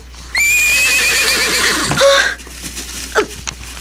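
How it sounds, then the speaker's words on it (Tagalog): A horse gives a loud, close whinny that rises and trails off over about two seconds, followed by a couple of shorter snorting calls against a quiet background. "May kabayo yatang nakasuga sa likod ng malaking bato sa madadaanan ko"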